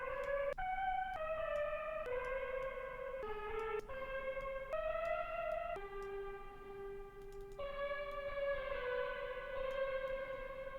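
A bright synthesizer lead plays a sustained, stepwise melody over an emotional chord progression, with long held notes gliding between pitches, loud and continuous with no talking.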